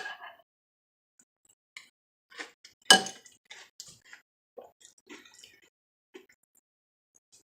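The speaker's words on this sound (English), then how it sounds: "I'm using a tablespoon." A tablespoon scoops salsa ragu dip from a bowl, giving scattered small clinks and wet scrapes with one sharper clatter of metal on the dish, all close and without talk.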